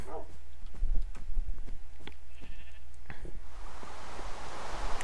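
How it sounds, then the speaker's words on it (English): A sheep bleats briefly amid a busy game soundscape in a snow biome, with clicks, thuds and footsteps, and a hissing wash building toward the end. "I heard a sheep."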